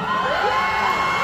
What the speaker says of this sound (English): If you're having a birthday, scream really loud.